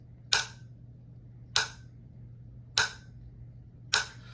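Four single drumstick strokes land on a hard surface, played in match grip, as sharp isolated clicks with short decays, evenly spaced a little over a second apart over a faint low hum.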